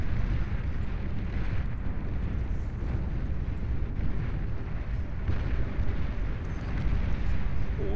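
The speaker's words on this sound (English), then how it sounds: "A little bombing run over here. Takes out a couple of wind turbines." In an 8v8 Beyond All Reason deathmatch, a bombing run strikes wind turbines, producing a continuous heavy rumble of overlapping explosions that stays dense and loud throughout.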